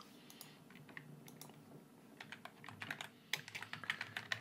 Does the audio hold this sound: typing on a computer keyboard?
yes